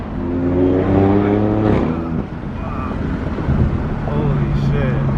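A BMW F80 pulls hard under acceleration, its engine note climbing in a strong surge and then settling into a steadier drone, with wind rushing past the car. Voices talk inside the cabin.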